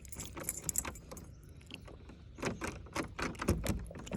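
A ring of keys jangles in short metallic bursts while a building is being locked up, close and quiet, with brief pauses between the clusters of clinks.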